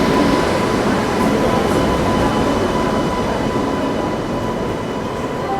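A Rajdhani Express rolls past the Bilaspur Rajdhani Express in winter fog, heard from aboard as a loud, steady rail roar with a faint high wheel whine and little change throughout.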